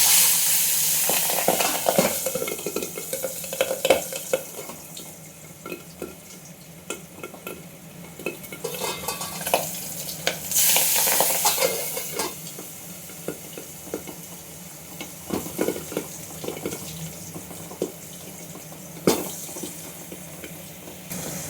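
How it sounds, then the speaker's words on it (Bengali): Pabda fish fry in hot oil, a moderate sizzle that swells and fades with repeated spatula scrapes and clinks, plus a few bursts of louder spitting. "তেলটা আমার গরম হয়ে এসছে, বেশ তেলে ধোয়া উঠছে। আমি এবার মাছগুলো এক এক করে ছেড়ে দেব।"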